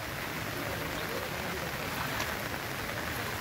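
Heavy monsoon rain in Konkan amid strong wind, a dense, steady hiss of rain pouring onto surfaces, constant and fairly quiet, with no distinct voices.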